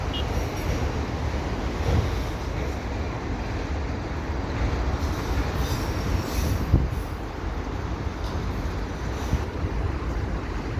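Steady low rumble and rattling of a long CP freight train led by SD70ACU locomotives rolling past at Dorval, continuous and fairly loud with wind noise, no voices.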